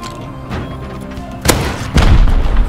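Two loud, close explosions in the survival game Rust, the first at about one and a half seconds and a heavier one half a second later, both rolling into rumbling low thuds over steady background game noise.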